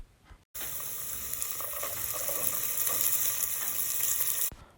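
Parboiled rice tipped into hot groundnut oil and chopped onions in a pot for coconut rice, a sudden loud sizzling rush that holds steady for about four seconds before cutting off.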